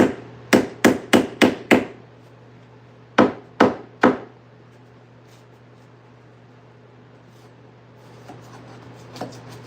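Sharp squeaky pulls and cracks come from nails being drawn from a wall during drywall demolition. There is a quick run of six, then three more, followed by quiet with faint scrapes.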